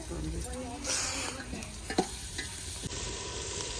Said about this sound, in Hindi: ये देखें जी, मिसाले हमारे जो है बन रहे हैं।